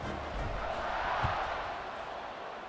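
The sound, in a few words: football stadium crowd buzzing after a touchdown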